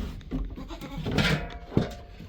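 Hungry goats in a barn bleating at their feeder: several loud, close, wavering bleats in quick succession.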